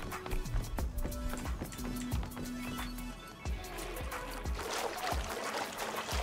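Horse galloping in a multiplayer survival video game, rapid rhythmic hoofbeats close by with a brief whinny-like tone early on, played alone without talk.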